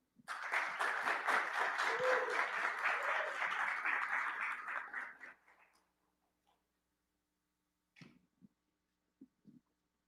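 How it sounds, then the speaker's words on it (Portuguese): A conference audience applauds with dense, steady clapping for about five seconds, then it fades out quickly. Near-silence follows, broken by a few isolated knocks and taps. "Uma salva de palmas."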